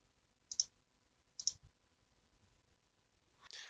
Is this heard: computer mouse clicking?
yes